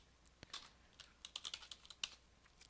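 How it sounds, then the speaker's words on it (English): Keystrokes on a computer keyboard, close and fairly quiet, an uneven run of taps with short pauses as a word is typed, no voices. "We're going to write Copernicus one more time."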